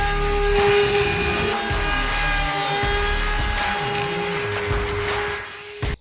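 A power router cuts the wood of a built-in deck bench with a loud, continuous high whine that shifts slightly as the bit moves along the edge, then cuts off abruptly at the end.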